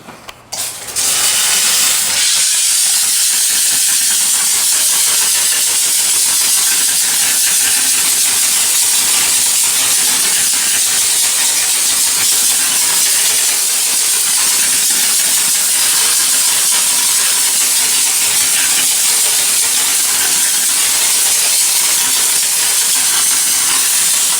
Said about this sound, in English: how well the steam actually does at cleaning surfaces